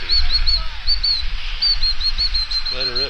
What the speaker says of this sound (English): Is that the seagull I keep hearing?